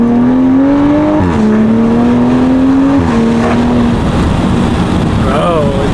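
2021 Toyota A91 Supra with a downpipe exhaust accelerating hard, a loud, close engine drone that climbs, drops at each gear shift and climbs again, with heavy wind noise around it.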